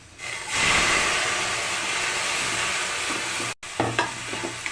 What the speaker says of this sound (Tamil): வெங்காயம் நல்லா வசங்கட்டும். இப்போது தக்காளி போட்டுக்கலாம்.